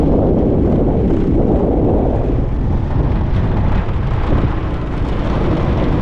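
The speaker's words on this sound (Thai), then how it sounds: "ลมพัดแรงด้วยนะครับ" Strong winter wind at the Wang Nong reservoir in Phu Khao Thong subdistrict, a loud continuous rumbling roar buffeting the microphone throughout with no letup.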